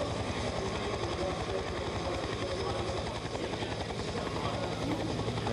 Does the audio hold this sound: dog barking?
no